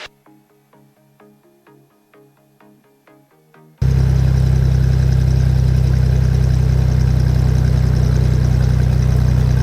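Soft, plucked musical notes give way suddenly to the STOL light aircraft's engine idling during a taxi, a loud, constant low drone that holds steady to the end.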